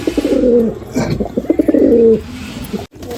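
Madrasi pigeons coo in a close, steady series of soft throaty calls, with a brief pause before a quieter ending.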